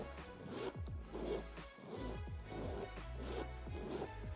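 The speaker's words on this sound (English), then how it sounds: "it has a high quality zipper" A zipper closing on a Dior Scarab luxury handbag: faint, close-up repeated soft zipping strokes in a quiet room, several smooth glides in an even rhythm with no talking.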